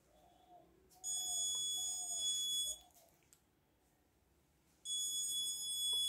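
An ultrasonic distance sensor's electronic buzzer alarm sounds twice, a steady shrill tone lasting about two seconds, then a pause before it starts again, over a quiet room with faint chirps.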